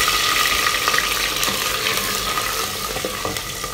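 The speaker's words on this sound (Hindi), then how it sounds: "ऑयल हमारा अच्छा सा गर्म हो चुका है। इस वक्त हम इसमें शामिल कर रहे हैं अपनी प्याज और टमाटर।" Onions and tomatoes fry in hot oil for an aloo and egg curry, a steady dense sizzle with occasional stirring scrapes and crackles, close and loud without any talk.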